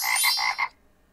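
A frog croaks in a quick run of four loud, close, rasping pulses, then stops abruptly, set among a children's game for learning animal sounds.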